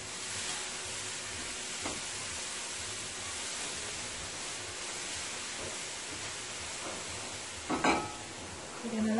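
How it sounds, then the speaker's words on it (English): Grated coconut cooking in brown sugar in a pan, giving a steady soft sizzle with a few faint scraping tosses and a louder stir near the end, no talk over it. "You're going to let that continue to cook in the brown sugar"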